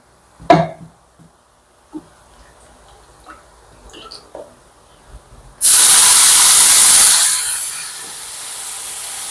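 Scattered light taps come first. Then tamarind water hits hot sambar with a sudden loud, steady steam hiss that lasts about two seconds and slowly fades to a low sizzle.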